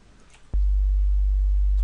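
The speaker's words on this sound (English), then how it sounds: "so we just get that pure sine wave sound" A synthesizer oscillator switches on abruptly after a brief hiss, producing a loud, steady, pure low sine tone that holds without variation to the end.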